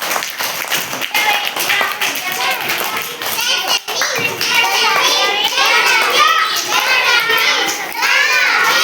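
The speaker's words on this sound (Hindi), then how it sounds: "तालियां बजा सकते वैसे तुम अपने दोस्तों के लिए।" Primary schoolchildren in an Urdu-medium classroom clap for their friends in bursts of rapid, uneven claps, mixed with lively children's chatter throughout.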